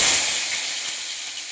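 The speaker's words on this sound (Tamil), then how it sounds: "வெங்காயம் கேரட்டு போட்டிருக்கேன்" Onion and carrot hit hot oil for sambar with a bright sizzle that flares at first and then settles into a steadier, fading hiss, heard alone.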